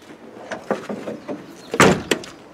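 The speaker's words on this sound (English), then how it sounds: "The door shut." A rusted car door thumps shut with a solid slam after some light clunks and handling noises, up close.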